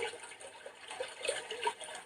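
Raindrops fall with a soft, continuous watery patter, quiet and even, with no voices.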